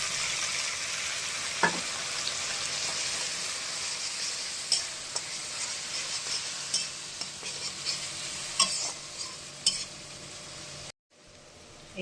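Spices and mustard seeds sizzling and frying in hot oil in a pan, a steady loud hiss with scattered pops and brief stirring clinks, no talk, ending in a short cut.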